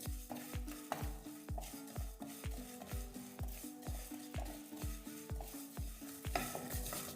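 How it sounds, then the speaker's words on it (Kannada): Coriander seeds, mustard seeds, black pepper and a small piece of cinnamon dry-frying in a pan, a faint, evenly paced series of stirring strokes with a light sizzle and a steady low tonal hum beneath, no voices. "ಮೂರು ಸ್ಪೂನ್ ಧನಿಯಾ, 1/4 ಸ್ಪೂನ್ ಸಾಸಿವೆ, 1 ಸ್ಪೂನ್ ಕಾಳುಮೆಣಸು, ಚಿಕ್ಕದು ಚಕ್ಕೆ ಫ್ರೈ ಮಾಡ್ಕೊತಾ ಇದ್ದೀನಿ"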